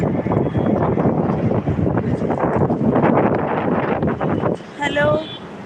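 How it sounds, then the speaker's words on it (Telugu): Strong, dusty wind in Jaipur, Rajasthan, buffets the microphone with a loud, continuous rushing roar that briefly dips near the end, where a faint tonal sound appears. "రోజు ఇట్లా గాలి దుమ్ము ఉంటుంది."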